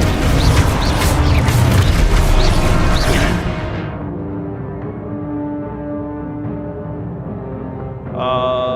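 A Confrigo fire spell blasts in Hogwarts Legacy, a loud roaring whoosh and boom that fades into a lingering rumbling tail, with a bright chime rising at the end.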